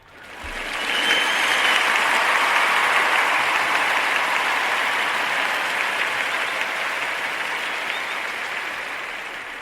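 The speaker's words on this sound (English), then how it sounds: "I want to give them a round of applause for showing the substitute some love" Audience applause at a county meeting for substitute teachers, a dense steady roar of many hands clapping that rises quickly and sustains for several seconds with a slight fade, without speech.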